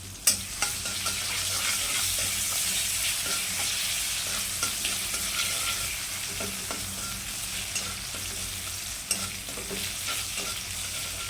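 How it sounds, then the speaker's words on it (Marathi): Garlic frying in a pan for a Maharashtrian methi bhaji, a continuous close sizzle broken by repeated sharp spatula scrapes and clinks, with no talk. "त्यात लसूण टाका. लसूण चांगला भाजला पाहिजे."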